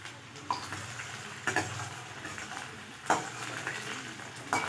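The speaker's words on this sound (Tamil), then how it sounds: "பூண்டு நல்லா இப்படி எண்ணெயில் போட்டு வதக்கிக்கலாம்." Finely chopped garlic fries in hot oil in a pan for a creamy cheese pasta, giving a soft steady sizzle broken by a few sharp stirring scrapes at regular intervals.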